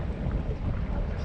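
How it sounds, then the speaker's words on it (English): Strong wind on a bass lake buffets the microphone aboard a fishing boat, a steady, loud rumbling gust with no pauses. "wind is pretty strong right now."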